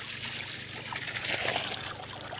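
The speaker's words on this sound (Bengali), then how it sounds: "তাই এই বেডে জল দেওয়া হচ্ছে" Irrigation water trickles and splashes into a planted field bed, a continuous close hiss that swells slightly midway, with no talking.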